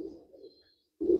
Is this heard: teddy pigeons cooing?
yes